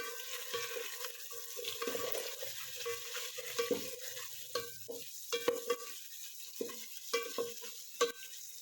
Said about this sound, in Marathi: अंडी अशी चांगली फ्राय करून घ्यायची आहे